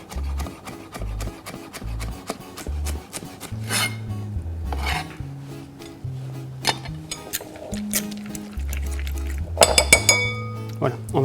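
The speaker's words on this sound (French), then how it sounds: "On va bien remuer le mélange" Utensil clinking against a bowl or pan while an amatriciana pasta sauce mixture with pepper is stirred, in irregular bright taps and scrapes beneath a person talking.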